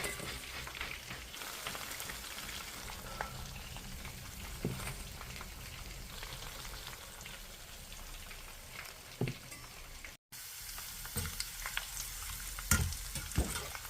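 Hot oil sizzling and spattering while sea eel stir-fries for a spicy Thai curry, a continuous faint hiss with scattered pops and a few spatula knocks, heard close with no talk.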